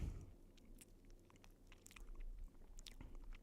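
Crunchy bites and chewing on a roasted marshmallow, close and quiet, with irregular crisp crackles over a low background rumble.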